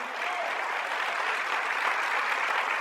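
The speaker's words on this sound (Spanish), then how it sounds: "Den un aplauso al Señor." A church congregation claps together in steady, dense applause, a continuous patter of many hands at moderate loudness with no pauses.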